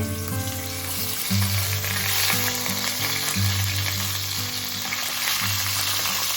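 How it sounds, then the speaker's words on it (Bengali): Koi fish (climbing perch) frying in hot mustard oil with a loud, constant sizzle and crackle, close up and uninterrupted, under a faint background hum. "কই মাছটা ভাজা হচ্ছে"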